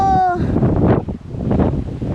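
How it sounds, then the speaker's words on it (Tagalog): Strong gusty wind buffets the microphone in rough, roaring bursts, after a brief tonal sound at the very start. "sobrang hangin ho"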